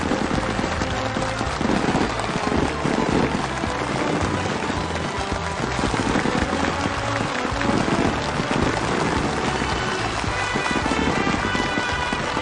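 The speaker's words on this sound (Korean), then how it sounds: "우렁찬 박수갈채와 격정의 환호로 도져오르는 속에" Dense, sustained applause and cheering from a large crowd at a factory completion ceremony, loud and continuous clapping rolling on without pause.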